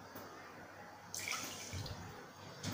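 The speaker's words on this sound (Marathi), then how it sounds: "त्याच मापाने आपण पाणी घ्यायचं आहे, साखर बुडेल इतके पाणी घेऊया" Water is poured over sugar in a pan to make syrup for boondi ladoo, giving a soft, close trickle that swells into a louder gush midway and surges again at the end, with no voices.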